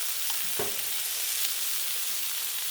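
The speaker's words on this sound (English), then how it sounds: "Getting a good sear on that side" Tri tip sears on a Blackstone griddle with a steady, close sizzling hiss that holds throughout, broken only by a faint knock or two.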